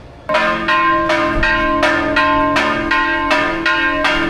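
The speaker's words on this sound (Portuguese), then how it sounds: "o sino já tocando" A church bell in Granada rings loud and close, several struck tolls in a steady rhythm, each ringing on and overlapping the next.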